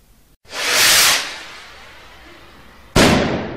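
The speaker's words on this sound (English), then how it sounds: "This year, the end of October has been really noisy. The reason? Fireworks." Fireworks go off nearby: a long crackling, hissing burst swells and fades, then a second sharp blast bursts in loudly near the end, with no voices.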